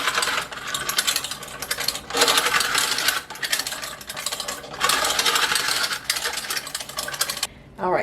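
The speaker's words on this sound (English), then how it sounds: "whenever you are using a food mill to get seeds out, just make sure your holes are smaller than the seeds that you're trying to get out" A hand-cranked food mill strains seeds out of a homemade barbecue sauce, giving a loud, close grinding and rattling churn that runs in long bursts with short pauses between turns.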